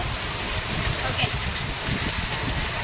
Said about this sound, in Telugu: నాకు వర్షం అంటే చాలా ఇష్టం, అందుకే క్లిప్ తీశాను.